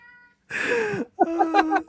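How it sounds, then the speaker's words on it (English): A hungry house cat meows twice, close and clear, with a short pause between: a drawn-out first cry followed by a choppier, wavering second one. "That is one hungry cat, mate."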